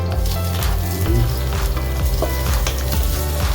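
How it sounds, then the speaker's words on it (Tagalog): Garlic dropped into hot chicken oil sizzles loudly and steadily in a pan, a close continuous crackle with occasional stirring scrapes, and no voices over it. "Lagyan natin ng bawang."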